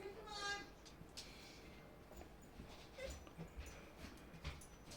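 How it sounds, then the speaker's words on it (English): A bouncy, playful pet dog whimpering and giving small yips, faint and intermittent over quiet room noise, with brief high whine at the start. "She's a lovely, beautiful dog, bless her, but sometimes she just bouncy and exuberant and just wants to play all the time"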